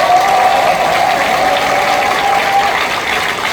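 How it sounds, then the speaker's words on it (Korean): Sustained audience applause fills a party convention hall at the founding rally of a Daejeon city chapter, a dense, steady wash of clapping from a large crowd that stays loud throughout with no pauses. "당원 여러분께서 큰 박수로 축하해 주시기 바랍니다."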